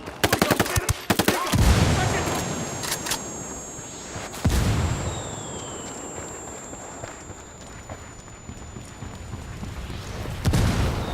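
Frag grenade blast and gunfire in Ghost Recon Wildlands: a rapid burst of shots opens, then a heavy explosion booms mid-clip and another shot lands near the end, with a lingering ringing tone between.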